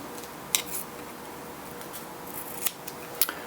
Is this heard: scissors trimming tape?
yes